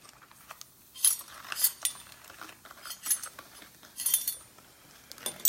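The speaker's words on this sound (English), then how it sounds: "record the reaction and stir as fast as we can" A spoon stirs a yeast mixture fast, producing rapid, irregular metallic clinks and scrapes against a container, fairly quiet with no talking.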